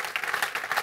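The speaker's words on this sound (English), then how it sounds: "I think we just have to give a round of applause to both these guys." A short, dense burst of audience clapping at an evening talk with golfers. Overlapping claps run at a steady, moderate level for under a second.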